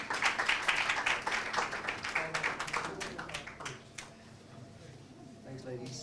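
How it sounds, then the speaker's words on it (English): Applause from a crowd at a women's and men's running race event, with dense, fairly loud clapping that thins out partway through, then picks up faintly again toward the end. "let's give them all a big round of applause, both the men and the women"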